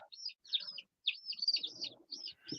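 A chick chirps in a quick run of bright, high peeps with short pauses between bursts, close and clear, with faint low rustling underneath.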